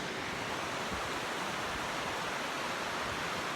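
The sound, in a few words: river water flowing at Falls Rivulet, Tasmania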